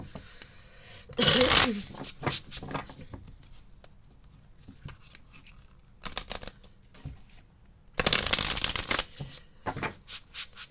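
Tarot cards being shuffled in two loud riffling bursts with softer card handling and taps between them, close by and without talk.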